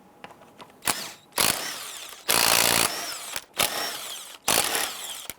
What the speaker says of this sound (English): Using our 19mm socket, we're going to loosen and remove the lug nuts.